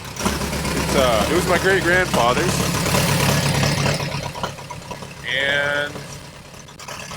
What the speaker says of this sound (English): Truck is running, full tractor.